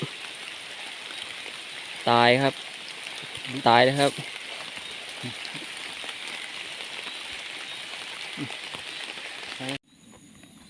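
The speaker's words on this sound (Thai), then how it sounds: "ฝนก็ตกครับ" Steady rain falls on a forest, a constant hiss with a man's short spoken phrases and a few brief knocks over it.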